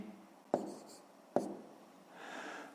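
Pen on paper writing out the numbers of a fifth-grade multiplication exercise by hand: two sharp taps as strokes begin, then soft scratching, quiet and close.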